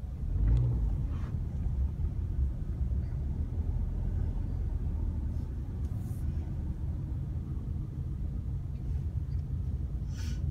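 Low rumble of a car rolling slowly along a residential street at around 25 mph with a learner driver at the wheel, steady and unrevved throughout, with a brief louder swell near the start.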